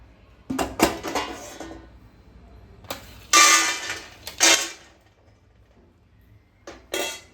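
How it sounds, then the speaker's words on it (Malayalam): Peanuts tossed into a pan for frying, later joined by almonds, cashews, dates and pumpkin seeds for a healthy laddoo, give several sharp clattering bursts of nuts and spatula against metal, with quiet gaps between. "ആദ്യം നമുക്ക് കപ്പലണ്ടി ഒന്ന് ഫ്രൈ ചെയ്തെടുക്കാം"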